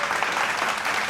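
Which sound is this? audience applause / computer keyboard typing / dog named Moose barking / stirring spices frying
audience applause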